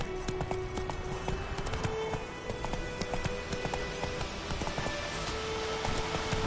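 Rapid clip-clop of a horse's hooves galloping steadily from start to finish, the mount Roach in a video game, with a faint mechanical hum underneath.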